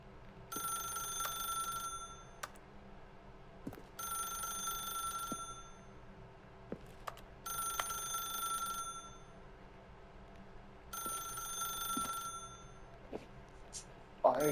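A telephone rings in the video game The Stanley Parable, four evenly spaced bright electronic ring bursts separated by pauses over a quiet room hum, with faint clicks between rings and no talking.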